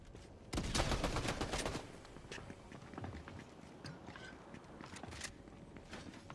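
Gunfire in Fortnite Mobile, played on an M4 iPad Pro during a solos match: a loud cluster of rapid shots up front, then scattered single shots and softer pops amid game noise, with no talking.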